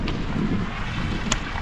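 Wind blowing steadily on an alpine mountain hike near the Oberalp Pass, a continuous broadband rush with microphone buffeting, moderate and unbroken throughout with no talk.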